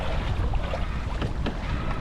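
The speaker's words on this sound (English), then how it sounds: "So I'm just going to put in a jibe" A sailboat jibing on the Tasman Sea in roughly 10 to 11 knots of wind, steady wind and water rush throughout with soft thumps of gear and rigging, heard close on the boat.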